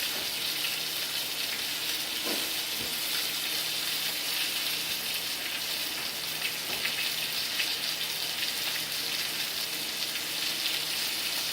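A New York strip steak searing in a hot pan, sizzling and spattering in a steady, dense hiss that stays even throughout, with a few faint knocks and no voices.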